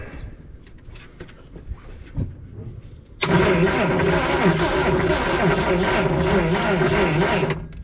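An old Datsun 521 pickup engine, recently saved from a scrapyard, cranks and catches, starting with quiet sputters before a loud, steady rumbling churn takes over for several seconds.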